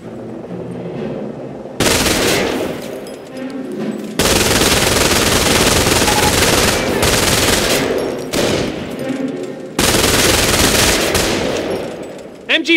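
MG-42 machine gun fire in a Company of Heroes 2v2 multiplayer skirmish, the World War II strategy game, comes as loud, dense bursts of rapid automatic fire. The long, sustained volleys are separated by short gaps.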